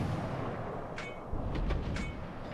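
Naval guns fire shells in a warship video game: a rumbling low-end barrage with several sharp bright cracks close together in the middle, with no talking.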